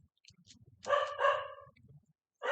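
A dog barks twice in quick succession at a distance, faint and alone outdoors on a desert hike, with another bark starting just as the sound ends.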